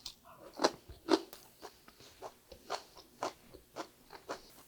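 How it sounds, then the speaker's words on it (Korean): Someone bites and chews butterbur shoots dressed with soybean and peanut powder, giving close, crisp crunches in an irregular rhythm with quieter chewing between. "먼저 콩가루, 땅콩가루 무침을 먼저 먹어볼게요"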